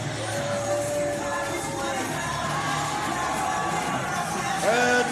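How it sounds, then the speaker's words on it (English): A wrestling crowd in an Atlantic City arena roars and cheers steadily throughout, a dense, sustained wash of voices with scattered shouts rising near the end. "Crowd is amped for this one."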